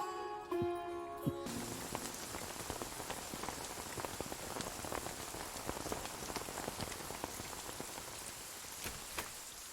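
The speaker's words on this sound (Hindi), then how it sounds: "अरे बाप रे, कितनी बारिश हो रही है, रुकने का नाम नहीं ले रही।" Heavy rain pours down continuously and densely with scattered louder drop hits. It starts just after a brief bit of unrelated sound and stays steady to the end.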